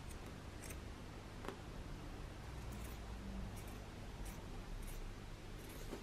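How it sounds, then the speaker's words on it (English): Scissors snip across the ribbed band of a cotton T-shirt, leaving a faint series of brief crisp cuts spaced about a second apart, close by against a quiet background hiss. "I'm just going to cut straight across the top"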